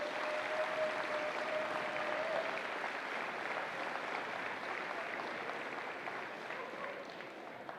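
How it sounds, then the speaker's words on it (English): An audience at a wallball championship claps in a sustained round of applause, steady at first and then slowly tapering off, heard from within the crowd. "give them all a massive round of applause"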